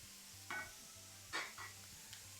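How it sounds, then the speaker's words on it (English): Flour being stirred gently into melted butter in a pan to make a roux, three or four short soft scraping strokes over a faint low simmer, close and quiet with no talking. "And just stir that nice and gently till you form a roux or a nice paste"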